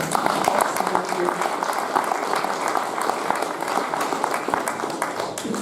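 An audience at a seminar claps together, a busy, steady round of applause at moderate distance with faint murmuring voices underneath.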